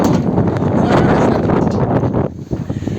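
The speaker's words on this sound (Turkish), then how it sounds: "Aşırı derece rüzgar var. Bizi alacak kadar rüzgar var." Loud, steady wind buffeting the microphone with a roaring rumble, dipping briefly near the end before gusting again.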